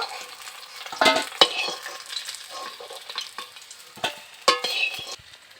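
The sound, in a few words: fish frying in pan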